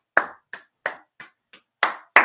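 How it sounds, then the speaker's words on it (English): An audience claps for sponsors at a virtual charity paddle party, a sparse run of seven separate, close, sharp hand claps with short gaps and no talk between them. "let's just clap for all of our sponsors"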